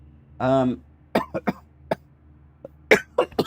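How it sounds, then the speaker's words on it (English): A person coughs several times in quick, sharp bursts close to the microphone during a Gran Turismo 7 livestream, with a short vocal sound just before the coughs. "sorry for coughing on stream"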